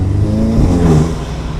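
Loud, steady engine drone with a low rumble from a 2016 Audi S3 8V, its 2-litre engine fitted with a downpipe, heard up close through the intake as the car runs, with no talking.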